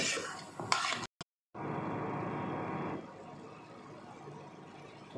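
Spinach sautéing in a pan for restaurant-style lasooni palak, a steady close sizzle broken by a brief clatter of a utensil and a short gap, then continuing at a lower, even level.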